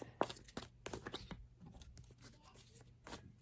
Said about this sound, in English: They're getting shuffled.